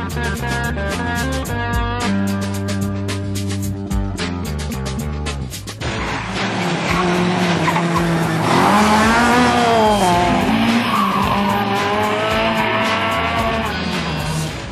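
A 1978 Polonez 2000 racing car revs hard through rising and falling gears at a hill-climb event, then roars on at full throttle with a rough, loud, continuous drone close by.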